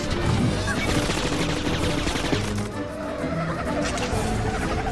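Rapid machine gun fire from a car combat in the Cars 2 video game rattles on continuously and loudly, blended with dense game effects and engine noise.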